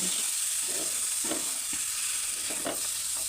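A drumstick masala fry is stirred in a pan after lemon juice goes in, with a steady soft sizzle and a few scraping strokes of the spoon, fairly quiet and without talk.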